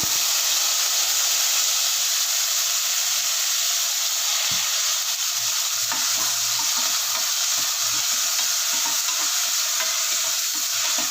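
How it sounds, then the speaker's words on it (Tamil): Tomato sautéing in a pan with cloves and cinnamon for a vegetable kurma, heard as a steady hissing sizzle with soft stirring scrapes and taps recurring through the second half. "கொஞ்சம் நல்லா வதங்கட்டும்."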